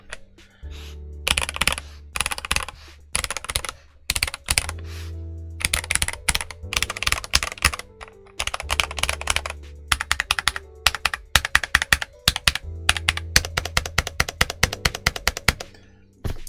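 Typing on a Risophy PC404 75% keyboard with Huano Red switches: bursts of crisp, close keystrokes, fast and irregular, with short pauses between runs and a few heavier clacks.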